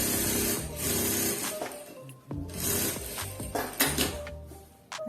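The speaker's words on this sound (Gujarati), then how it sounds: "જોઈન્ટ સિલાઈ મારી દઈશું." A sewing machine stitches a joint seam on a katori blouse cover in steady bursts, with the motor whirring in runs, briefly pausing and restarting close by, with no talk.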